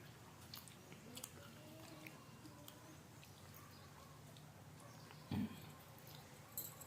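A child chews food at close range in a quiet room: soft wet mouth sounds and small bites, faint and irregular, with one brief louder knock near the end.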